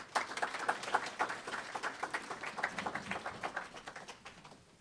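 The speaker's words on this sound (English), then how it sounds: "So please give her a round of applause." An audience at an evening community event applauds with a thin, rapid patter of claps that holds steady and then tapers off toward the end, suggesting a modest-sized crowd.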